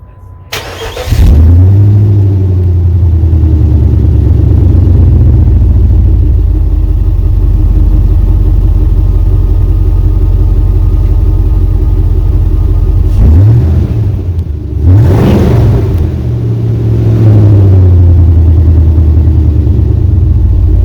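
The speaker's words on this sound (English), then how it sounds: "I just got the Flo-Pro muffler installed, 3-inch Flo-Pro. Replaced the rusty old muffler." A Jeep Cherokee engine starts and settles into a deep, loud exhaust rumble at idle through a new 3-inch Flo-Pro muffler, then a few throttle revs rise and fall before returning to idle.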